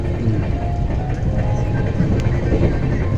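Inside the lower deck of a double decker AC express train running between Ahmedabad and Vadodara, a loud, continuous rumble of wheels and carriage fills the space throughout.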